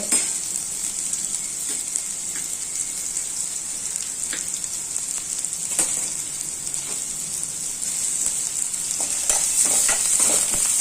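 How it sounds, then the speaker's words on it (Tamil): Onions sizzle steadily in a hot pan while making pasta, a continuous bright crackle with occasional stirring scrapes and clicks, close by and without any talking. "வெங்காயத்தை நல்லா வதக்கிக்கோங்க."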